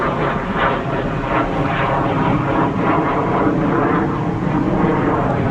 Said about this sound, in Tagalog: Papatrol na po sila ngayon. Jet fighter.